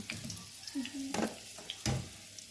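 Potatoes frying in hot oil in a pan, a steady close sizzle broken by a few brief scraping stirs and clinks, with no talking.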